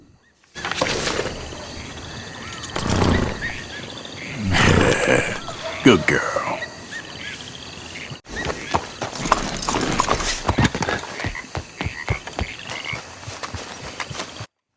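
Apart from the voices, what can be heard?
swamp ambience with frogs, crickets and gator growl in Red Dead video game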